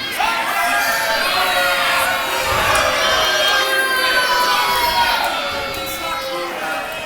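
Large wrestling arena crowd roaring and jeering at a heel wrestler, a dense, sustained wall of mixed boos and shouts that holds steady for several seconds before easing slightly near the end.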